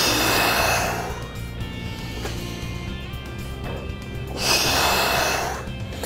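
Heavy breaths exhaled during hamstring curls, two broad airy gusts at the start and near the end with quieter breathing between, close to the microphone and with no talking.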